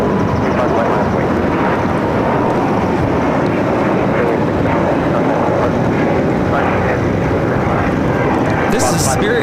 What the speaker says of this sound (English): This is Spirit Airlines 675 taking off to Las Vegas on the A321neo